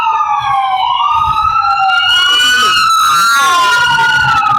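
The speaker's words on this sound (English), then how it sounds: "An ambulance." An ambulance siren wails loudly nearby, its pitch sweeping up and down in long rising and falling cycles, joined halfway by a second overlapping siren tone.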